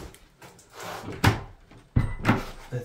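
The back door of an abandoned mansion is handled, producing two heavy wooden thuds with creaks and scrapes between them, close and loud in a quiet, echoey space.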